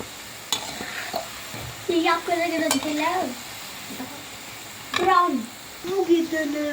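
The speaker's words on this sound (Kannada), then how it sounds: "ಈಗ ಇದು ಕೂಡ ಚೆನ್ನಾಗಿ ಫ್ರೈ ಆಯಿತು" Jamun fry in a pan with a low background sizzle, punctuated by spoon scrapes and stirring clinks, while someone talks over it in several short phrases.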